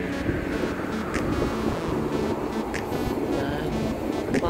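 Steady wind rushing over the microphone with broadband roar, mixed with a low rumble of water or a vessel, continuous throughout, atop a cruise ship sailing from Piraeus, Athens.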